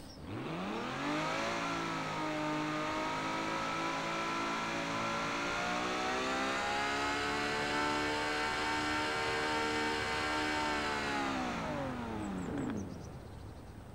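A Ferrari in a racing video game revs hard, its engine pitch rising and holding a steady high whine for around twelve seconds before dropping off, loud and continuous with no talking.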